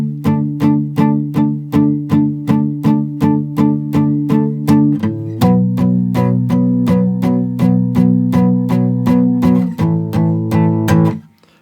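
Acoustic guitar playing the verse of a song, steady repeated plucked strums in an even pulse, shifting chords twice, close and bright, ending with a short fade.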